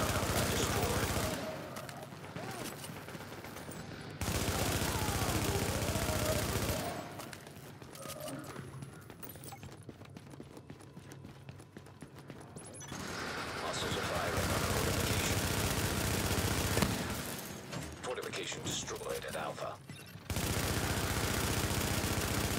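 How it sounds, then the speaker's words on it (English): Scattered gunfire and machine-gun bursts hit a fortification during a Last Stand match in a video game, the shots arriving in dense clusters broken by quieter lulls, with a voice talking over parts of it. "Hostiles are firing on a fortification."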